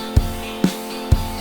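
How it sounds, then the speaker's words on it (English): UJAM Sparkle virtual guitar with an exciter adding bright sheen to sustained chords, punctuated by three evenly spaced thumping beats, loud and close. "I'm adding an exciter,"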